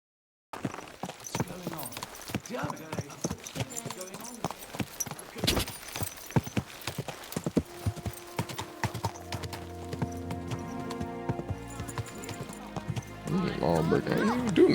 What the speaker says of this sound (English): I'm about to ride my horse